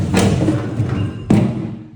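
A BMW E30 fuel tank drops free after its bolts and hose are removed, with a loud close thud and a second heavy thump about a second later.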